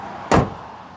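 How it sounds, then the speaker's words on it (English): The rear door of a 2012 Toyota Tacoma SR5 4x4 Access Cab swings shut with one solid, close thud that fades quickly into quiet room tone. "Now shutting this rear door"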